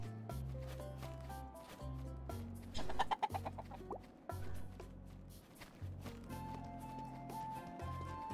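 Chickens cluck in The Ranchers, a farm-building video game, with repeated short clucks over a steady game music bed and a brief burst of busier bird sounds partway through.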